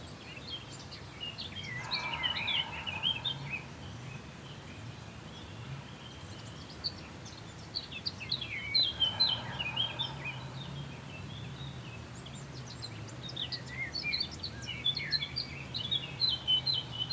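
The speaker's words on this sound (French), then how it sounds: "Accompagné de ces merveilleux chants des oiseaux." Outdoor birdsong carries through a quiet spring setting as scattered chirps and short tweeting phrases come in bursts, fairly faint and distant over a soft background hush.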